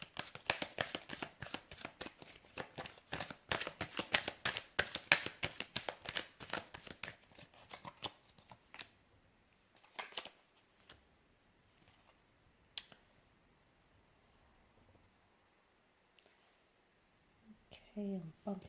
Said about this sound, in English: So I'm going to give the cards a shuffle